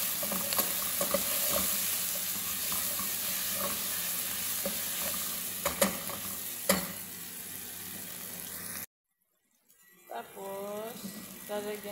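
Garlic cubes fry in a pan with a steady, dense sizzle and occasional utensil clicks. The sound cuts out abruptly near the end, then faint kitchen noise returns.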